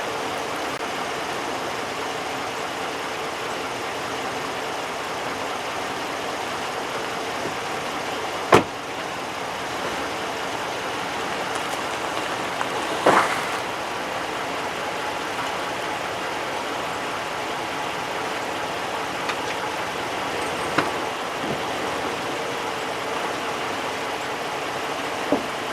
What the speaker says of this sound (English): So what I'm going to do now is just drive the truck forward until everything is lined up.